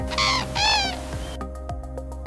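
Two loud, trumpeting calls from common cranes flying over a raised bog ring out in quick succession, then fade to a quiet background with faint low rumbling.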